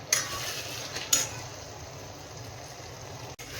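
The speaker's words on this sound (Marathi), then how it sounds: "मी फास्ट फ्लेमवर त्याला असं सतत हलवत राहायचं" Schezwan chutney frying on a high gas flame while being stirred steadily in a pan, a continuous soft sizzle with two brief louder scrapes of the utensil near the start.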